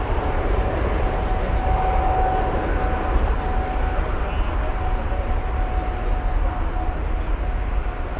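An airliner departs Frankfurt airport, a loud, sustained jet roar with a faint steady whine running through it, while a voice talks over it.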